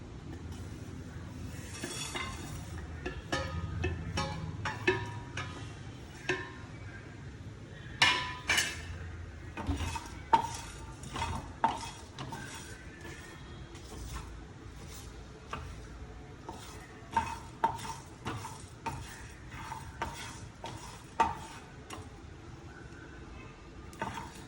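Biryani masala spices being dry roasted in a pan, with repeated sharp clinks and scrapes of a utensil against the metal over a faint background, close and intermittent.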